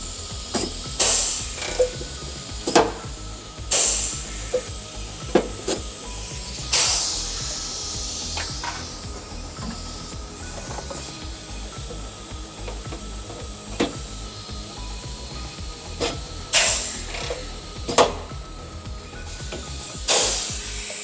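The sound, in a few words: air-powered riveter setting rivets in heel plate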